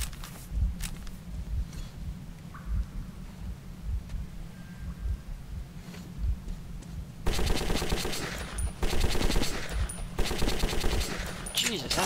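Sustained automatic gunfire in the video game Metro 2033, loud and continuous bursts that grow denser and harsher in the second half, with no talk over it.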